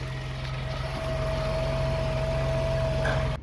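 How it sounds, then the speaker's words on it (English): A Ford Transit engine idles steadily after an oil change, a close, constant hum with a fixed low drone and a whining overtone, unchanging until it stops abruptly near the end. "I'm going to start the engine up, let it run for a little bit"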